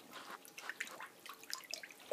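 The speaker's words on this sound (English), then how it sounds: "We're gonna simulate that flushing." Water swirling and trickling in a simulated toilet flush used to test flushable wipes, heard as faint, soft dribbling and drip-like splashes that come and go for a couple of seconds.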